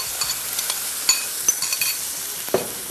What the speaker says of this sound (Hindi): अब इसकी हम करेंगे भुनाई।